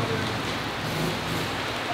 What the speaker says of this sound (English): absolute monsoon of a downpour